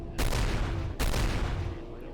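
Two heavy gunshot bursts in a video game, close and loud, each ringing out into a long rumbling decay, no talking.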